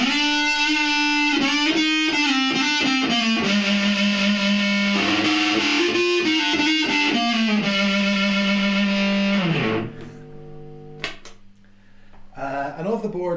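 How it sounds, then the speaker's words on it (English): A fuzzy, heavily distorted guitar solo runs through a Laney transistor amp, loud and sustained with bending lead notes for about ten seconds before breaking off into quieter scraps of sound. "just going into the Laney, the transistor amp, but this is for the big, horrible, nasty, muffled, fuzzy"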